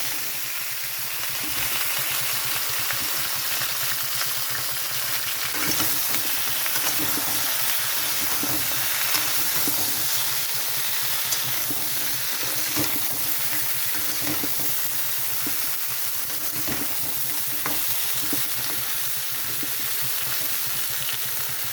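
Vegetables with green chilies fry in oil for a fish curry with pui shak stems, potato and eggplant, a steady, fairly loud sizzle with periodic stirring scrapes recurring throughout; no voices.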